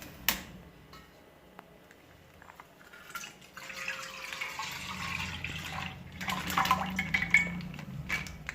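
Milk emptied from two plastic packets into a kitchen vessel. It starts as quiet drips and small taps, then a soft pouring stream swells and continues to the end.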